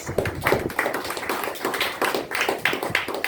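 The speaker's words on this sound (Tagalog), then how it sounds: "Palakpak mo natin." A church congregation claps together during a Sunday service, steady overlapping handclaps in a loose rhythm filling the room at moderate loudness, with no talking over them.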